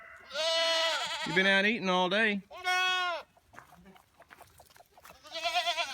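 Goats on a farm bleat loudly and repeatedly at feeding time as they gather around a feed bucket, several drawn-out nasal cries close by, with a person speaking to them between calls.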